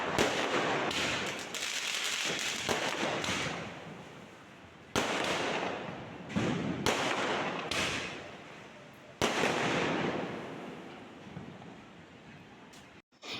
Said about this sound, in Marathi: इतके फटाके लावले होते ना मस्त ते आणि ना आकाशात वरती जाऊन असे फुटत होते